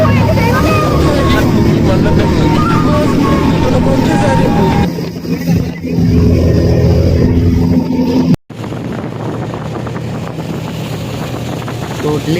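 A speedboat cruises the Kainakary backwaters with a loud droning engine and heavy wind rush buffeting the microphone, easing briefly partway through before the roar and wind return after a sharp cut.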